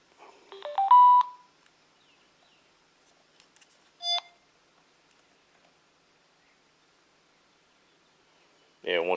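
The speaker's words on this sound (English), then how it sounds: "once it's paired, it gives you that beep right there" Short electronic beep from a Bluetooth speaker microphone on pairing, fairly close and clear, with a brief click near the middle and another burst of sound at the end; otherwise near silence.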